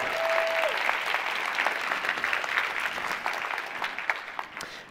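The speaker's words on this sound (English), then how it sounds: "Let's give them a huge round of applause." Audience applause at a technology summit, a steady, dense round of clapping from a large crowd that carries on throughout.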